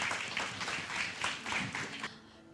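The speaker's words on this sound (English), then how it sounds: "Please give a big applause to our speakers today for their inspiring sharing." Audience applause for speakers at a tech community event, fairly quiet pulsing clapping that lasts about two seconds and then fades out.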